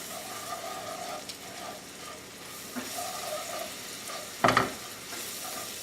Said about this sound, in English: I'm going to get my whisk, and I'm just going to whisk it all in to create a roux with the onions